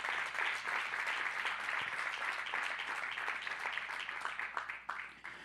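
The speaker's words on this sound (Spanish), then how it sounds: "dele al Señor una rica ofrenda de aplauso" A church congregation applauds together during a service, a dense, steady burst of many hands clapping close by that holds for several seconds before fading out at the end.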